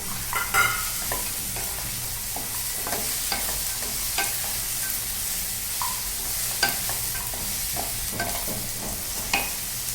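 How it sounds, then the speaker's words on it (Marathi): Sandge frying with tomato and onion in a pan, a steady close sizzle with frequent scraping and clinking stirs from a spoon throughout. "आता सांडग्यानी टोमॅटो कांद्यामध्ये फ्राय करून घेते चांगल्यापैकी."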